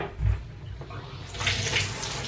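Shower water runs and splashes while body scrub is rinsed off, a steady hissing spray that grows brighter and louder toward the end, with no talking.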